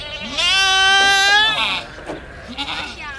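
Mother goats and baby goats bleating on a farm at morning feeding time: one long, loud, wavering bleat close by, followed by softer calls and animal noise.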